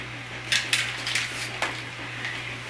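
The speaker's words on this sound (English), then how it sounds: "you can use the spoon to stir the yeast in like this" A spoon clinks and scrapes against a bowl in a few quick, light strikes while yeast is stirred in, over a low steady hum and with no voice.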